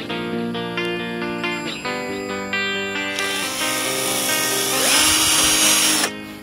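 Power drill boring into a rubber tree trunk, a loud whining motor that rises in pitch and turns harsher partway through before cutting off near the end.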